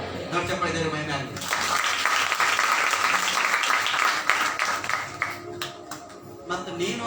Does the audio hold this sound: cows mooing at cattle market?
no